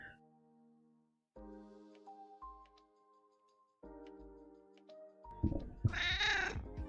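A cat meows in a room during a home stitching livestream, a loud, close cry near the end after quiet stretches of steady ticking tones.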